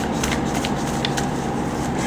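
Tarot cards being shuffled and drawn, a steady close papery riffle and slide with soft flicks, continuous and fairly loud.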